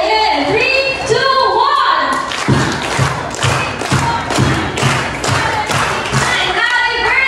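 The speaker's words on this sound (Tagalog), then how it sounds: "siya na palakpak para kay Ezekiel" Applause for Ezekiel at a birthday party at Rustica Restaurant in Tarlac City: a crowd claps and cheers in a burst of rhythmic, loud pulses, with voices calling out around it.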